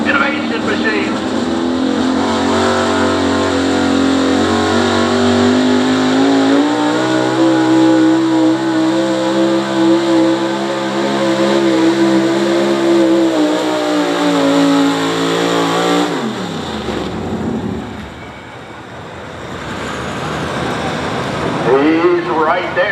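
A pulling truck at a truck and tractor pull in Caldwell, Ohio roars loud and sustained, engine pitch climbing and holding under strain before cutting off sharply, with an announcer talking over it.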